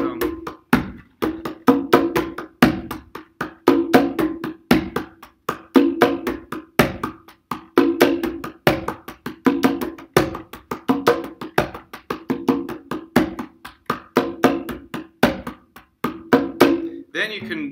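A conga tumbao pattern is played with palm, fingertip, slap and open-tone strokes, repeating in a steady, even groove of crisp hand hits. There is no talking over it.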